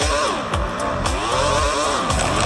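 A car engine in the Roblox game Car Crushers 2 revs up and down repeatedly, loud and close, its pitch sweeping in quick rising and falling waves.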